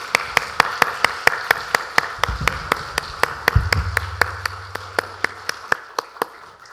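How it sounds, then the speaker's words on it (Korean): A church congregation claps in steady unison during a Sunday service, sharp even beats about three per second, close and fairly loud, over a low sustained tone and faint background murmur. "하나님께 영광의 박수 함께 올려드리겠습니다"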